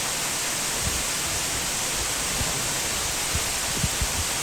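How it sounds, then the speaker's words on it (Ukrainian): Powerscourt waterfall in Ireland pours over silvery slate, a dense, steady roar of falling water filling the air, close and constant with a few faint thuds. "Подивіться на цей водоспад."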